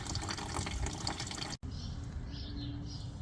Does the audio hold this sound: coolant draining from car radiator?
yes